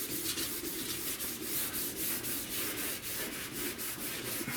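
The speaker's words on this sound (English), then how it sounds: "I'm just trying to do that so I can get this whole edge here, this whole lip, sanded down and ready for paint" Steady rhythmic strokes of wet sanding along the edge and lip of a panel being prepped for paint, a quick repeating back-and-forth rasp at close range with no voices.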